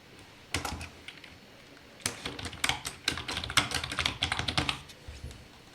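Close keystrokes on a computer keyboard come in quick irregular bursts: a few taps, a short pause, then several seconds of steady typing with brief gaps.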